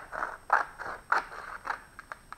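Scissors snip through a paper sheet in a steady series of crisp cuts, cutting a square, close and quiet, followed by a few quicker light snips.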